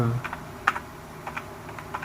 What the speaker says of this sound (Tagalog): type ko lang sa keyboard guys ha